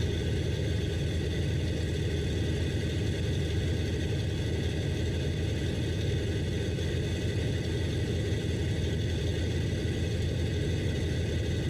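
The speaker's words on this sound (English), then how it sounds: "Got a really nice deep rumble to it." A deep, steady 125-horsepower aircraft engine rumble in Microsoft Flight Simulator drones continuously at a constant level, with no voices and no change in pitch throughout.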